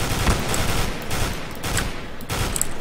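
Bursts of gunfire from the video game CSGO, repeated volleys in quick succession at fairly loud level with steady background noise and no talking.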